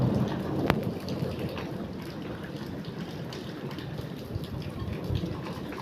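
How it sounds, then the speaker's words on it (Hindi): Heavy rain pours in a thick, constant hiss while deep thunder rumbles underneath, with a sharp crack early on, loud and close throughout with no voices. "बहुत तेज़ बादल गरज रहा है"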